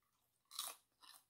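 Two crisp, close crunches of biting into crispy air-fried chicken thigh skin, a loud bite followed by a softer second chew, alone and quiet.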